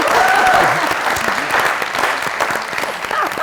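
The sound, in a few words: studio audience applause welcoming a guest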